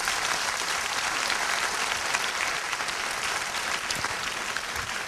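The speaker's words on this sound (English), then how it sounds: "Can you give them a big round of applause?" An audience gives a steady round of applause for a panel, continuous clapping at a moderate, even level throughout with no voices over it.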